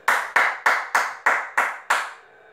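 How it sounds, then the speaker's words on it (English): Seven crisp, evenly timed hand claps ring out close and loud at a press conference for Conor McGregor vs Floyd Mayweather in Los Angeles, then stop and leave a faint trailing hum. "We should clap for that"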